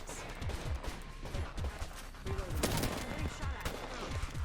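Rapid gunfire bursts in the Apex Legends video game crackle at close range in quick, uneven volleys with a sharp crash partway through, all under excited talk.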